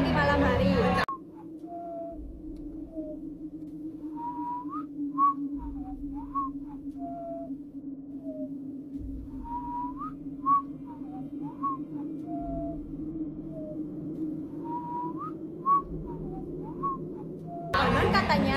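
A person whistles a slow, wavering melody of short rising and falling notes over a low steady hum, with brief louder noises at start and end.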